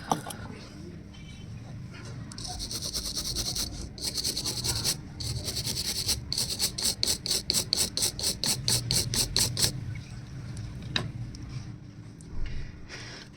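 Brisk rhythmic scrubbing as a brush washes a keypad mobile phone's circuit board after a memory card jack is soldered on; quick bursts of strokes come close together in the middle, then slow to a few isolated rubs.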